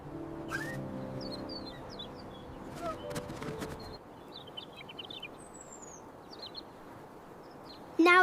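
A little bird in a snowy outdoor scene chirps in short, high, scattered calls that come clearer in the second half, over a steady soft background bed.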